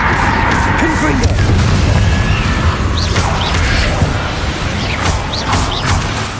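The Confringo fire spell goes off in the Hogwarts Legacy video game, producing loud booming blasts and crashing impacts in a busy battle mix, with voices mixed in.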